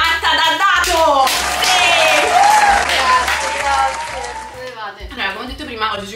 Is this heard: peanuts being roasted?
no